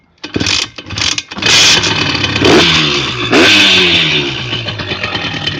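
Simson S51 moped engine in cold weather, cranked with a few sputtering false starts before catching and running with a rough, loud revving idle close by.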